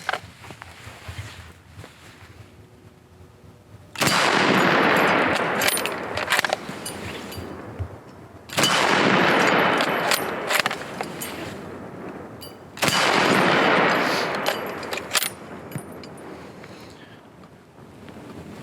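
Three shots from a CZ Mauser rifle fired outdoors, spaced about four seconds apart, each a loud sharp crack followed by a long rolling echo over faint wind.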